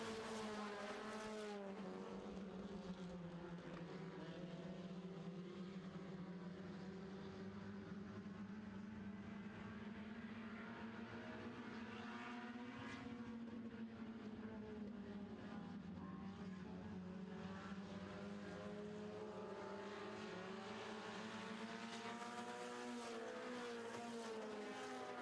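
Four-cylinder stock cars race around a track as the green flag drops, a loud continuous engine roar rising and falling as the pack passes, steady throughout with no voices.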